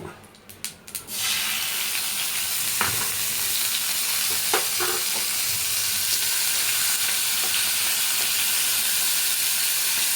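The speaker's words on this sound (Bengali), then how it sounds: "এবার এর মধ্যে 1 চামচ আদা বাটা দিয়ে দেব।" Ginger paste hits hot oil in a pan for raw papaya sukto. A few sharp crackles come first, then a loud, dense, steady sizzle with occasional stirring taps.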